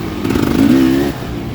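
Motorcycle pulling away in first gear during a wet poker run, engine note rising briefly then easing off, close and loud with no talk.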